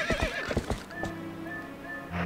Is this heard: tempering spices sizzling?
no